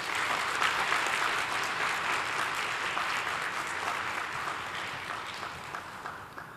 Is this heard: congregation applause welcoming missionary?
yes